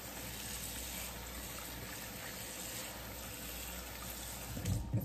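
Water running from a kitchen tap into a pot, a steady faint hiss and rush throughout, with a small clunk near the end.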